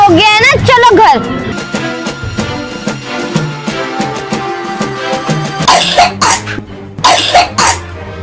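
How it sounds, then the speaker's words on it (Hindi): A child with a sore throat after eating ice cream coughs hard in a burst of several coughs near the end, with talking and background music underneath. "इतनी जोर जोर के खांसी कर रही हो।"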